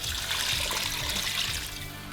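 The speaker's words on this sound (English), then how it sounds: "with the rest of that chicken juice you had from earlier, go ahead and pour all of it in there" Chicken juice poured into a pot of Cajun gumbo, a continuous splashing trickle of liquid that is close and steady for about two seconds.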